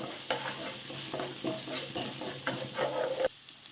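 Corn upma with curry leaves and green chillies being stirred in a pan, giving a steady soft sizzle with repeated scraping strokes of the spoon, close and moderately loud, with no voices.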